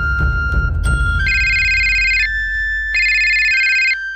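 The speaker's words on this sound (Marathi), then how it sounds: "अरे फोन तरी कर बाबा." Phone ringtone on an outgoing call, with two loud electronic ringing bursts a couple of seconds apart after some low background rumble.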